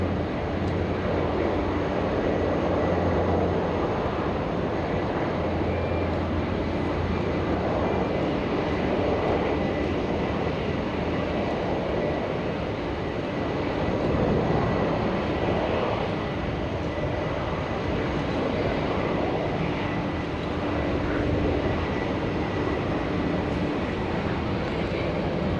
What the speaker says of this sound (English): Sincargo 74 freighter is now pushing back freight apron 2